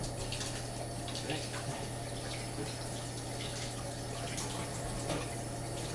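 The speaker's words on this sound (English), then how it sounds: "I'm just gonna give my hands a little wash." Hands being rinsed under a running kitchen tap while a frozen pizza is prepared: a steady, close rush of water that continues evenly for about six seconds with no break.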